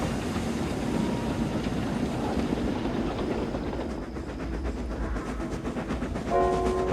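Steam engine Gordon pulling empty coaches through thick fog at night, a steady low rumble and clatter of wheels on rails, fairly faint and continuous, with a brief tonal whistle-like sound near the end.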